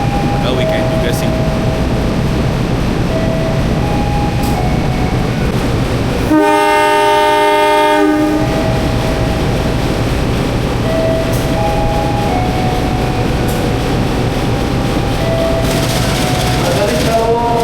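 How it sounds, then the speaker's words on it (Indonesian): The Serayu train stands at Purwakarta station amid a loud, constant rumble of engine and rail noise, broken midway by a clear two-second horn blast, with faint station tones sounding in the background. "ada kereta api Serayu ternyata lagi berhenti di stasiun Purwakarta"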